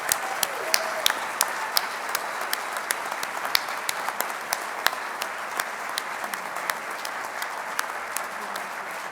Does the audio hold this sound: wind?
no